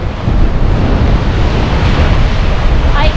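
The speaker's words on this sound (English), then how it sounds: "You can hear the wind howling." Strong wind gusting over a swaying coastal suspension bridge in Tsitsikamma National Park, a steady loud roar of rushing air and microphone buffeting, with surf-like noise underneath and no speech.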